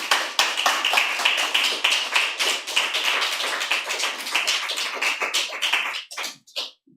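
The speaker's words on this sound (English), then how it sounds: "Another round of applause for Jaime, please." Audience applause, a dense burst of clapping from a crowd that gradually thins to a few last claps.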